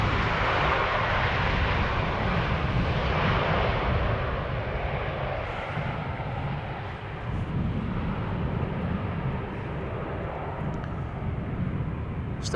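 An airplane arriving at Schiphol Airport, a steady broad engine roar that stays loud and near throughout, with a slight dip in the middle.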